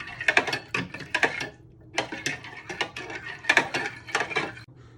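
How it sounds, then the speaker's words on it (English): Spoon clinking against a measuring jug while stirring a beef stock cube into hot water, a series of quick bright taps and scrapes in uneven bursts, close and clear with short pauses between strokes. "You want to give this a stir for a minute or two"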